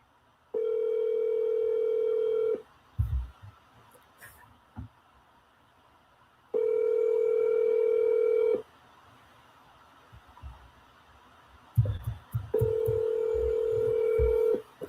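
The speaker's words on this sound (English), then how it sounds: "I'm going to call my dad" A phone's ringback tone plays over speakerphone during an outgoing call: three steady two-second tones separated by roughly four-second pauses, with faint room noise and small knocks in the gaps.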